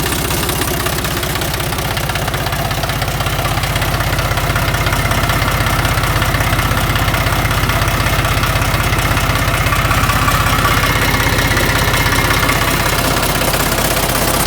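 A tractor fitted with homemade hydraulic steering runs close by during a turning test in a yard, giving a loud, steady, low engine drone with a knocking rhythm and no pauses.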